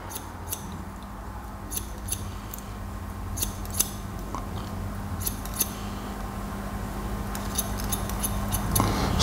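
Scissors snip hair during a men's haircut, giving repeated crisp close cuts in short bursts over a quiet room hum.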